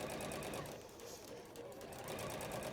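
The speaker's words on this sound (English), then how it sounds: "once you've sewn all the way round, leaving your gap for turning" Sewing machine stitching around fabric pieces, a quiet rapid mechanical whirring with a steady rhythm and a slight dip midway.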